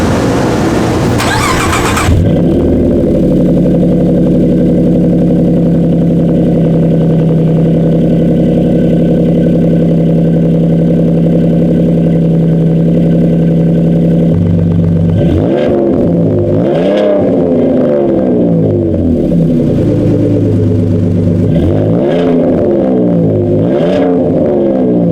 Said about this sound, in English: Put on a Flowmaster Super Series 44. It sounds really good, and it pops a little bit on revs.